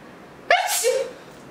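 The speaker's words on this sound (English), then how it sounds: "I want to sneeze." A four-year-old girl gives a single short, sharp sneeze, close and loud, with a quick breathy burst and a brief tail, alone in a quiet room.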